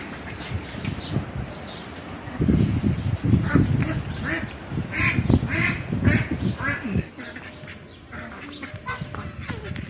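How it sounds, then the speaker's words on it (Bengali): Native desi and Radha ducks on a small duck farm beside a horse farm quack repeatedly and busily, close by, while someone talks over them and a dog may bark briefly. "এখানে দেশি হাঁস আছে রাধা হাঁস আছে"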